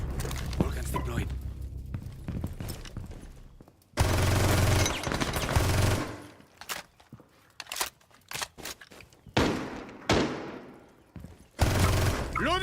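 A Vulcan gun firing in a shooter video game, dense sustained bursts of rapid fire that stop and restart several times, loud and close, with softer gaps and clatter between bursts.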